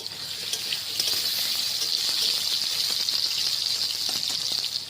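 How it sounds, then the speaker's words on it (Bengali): Potatoes sautéed in a pan for chicken kosa hiss with a constant bright sizzle, with small crackles and stirring scrapes running through it from start to finish. "এখন আলুটাকে কষে নিচ্ছি।"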